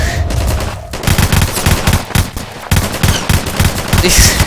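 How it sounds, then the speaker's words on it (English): Dense enemy gunfire in the World War II shooter Heroes and Generals, rapid automatic bursts and scattered single shots crackling nearly nonstop for several seconds, loud and close with a brief lull midway. "All of a sudden you got enemies shooting at you"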